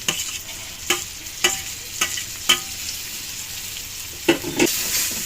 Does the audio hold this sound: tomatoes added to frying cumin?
yes